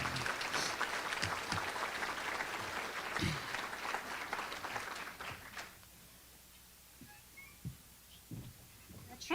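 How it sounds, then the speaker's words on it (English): Loud applause from a crowd at an awards ceremony fills the first few seconds, then fades to scattered claps and quiet room sound. "Another round of applause for our new leader."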